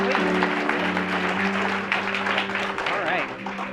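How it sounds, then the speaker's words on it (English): An audience claps for a guest at a comedy night program, a loud burst of applause that slowly thins and fades, heard over a steady low hum, with a few voices rising near the end. "a huge round of applause for J. Drake"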